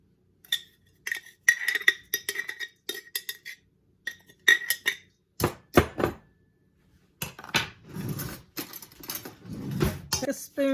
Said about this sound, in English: Take a spoon, stir it up until everything gets moist with the vegetable oil.